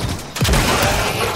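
Halo Infinite sniper rifle fire, one sharp, loud, booming shot with a brief rumbling tail, close and heard alone.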